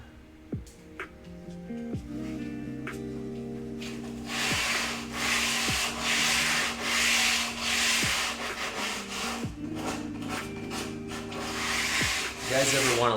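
Sandpaper rubbing along the rough edge of a wooden camp sign in repeated back-and-forth strokes, close and fairly loud, with soft music audible in the background.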